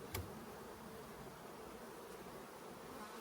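Honey bees in a hive give a steady, soft droning hum throughout, with one brief knock near the start.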